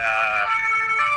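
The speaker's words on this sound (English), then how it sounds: "sorry for the sirens, it's the police" A loud, steady wailing police siren close by outdoors, its tone dropping to a lower pitch midway.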